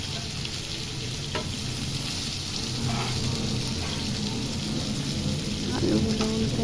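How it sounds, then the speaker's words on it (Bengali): Potatoes frying in hot oil in a home kitchen pan while they are turned and stirred, a steady close sizzle broken by occasional scraping and clinks of the spatula. "আলুগুলো উল্টে পাল্টে ভেজে নিই"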